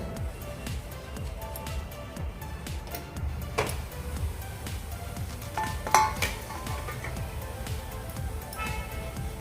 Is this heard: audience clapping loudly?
no